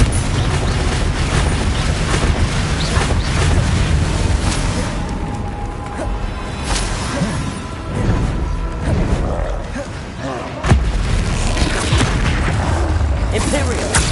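Bombarda and Confringo spell explosions from the Hogwarts Legacy video game form a loud, dense run of booms and crashes that continues almost without a break, with a voice speaking over the blasts.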